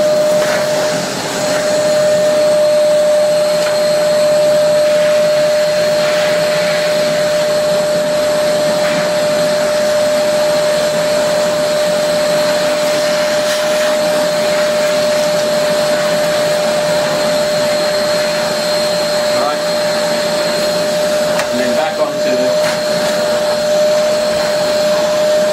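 V-Tuf M-class dust extraction vacuum cleaner running steadily, a loud close roar with a constant whining tone and strong suction, collecting dust from a wood burner and lifting carpet.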